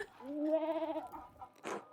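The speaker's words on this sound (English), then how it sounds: "I love that you can hear the sheep going bah in the background." A sheep bleats in the background of a medieval-themed scene, one drawn-out wavering call of about a second, fairly clear and unaccompanied, followed by a brief rustling noise.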